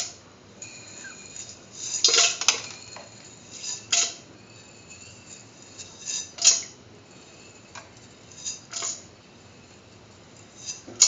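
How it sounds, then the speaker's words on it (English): Mung beans being mixed into a beetroot curry mixture in a pressure cooker pot: a spoon scrapes and clinks against the metal in irregular bursts, with soft wet squishes between strokes. "Mix the mung beans with the rest of the mixture"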